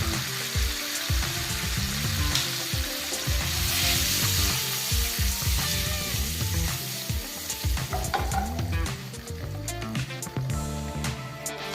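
Eggs fry in oil with chilli powder, a continuous crackling sizzle, occasional scraping and stirring clatter, loud and close throughout.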